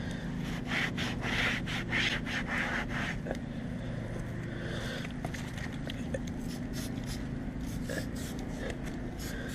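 Steady scratchy rubbing of sandpaper by hand on a scraped car front splitter, rapid back-and-forth strokes, continuous throughout, close and moderately loud with faint breathing.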